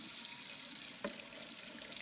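Tap running 125-degree hot water into a sink, a steady broad hiss of flowing water with one brief splash or clink partway through, fairly faint and continuous.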